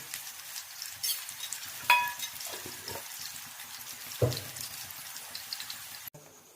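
Chana dal bhurji fries in oil in a pan, a steady soft sizzle with occasional stirring scrapes and clinks, close and moderately quiet, ending abruptly.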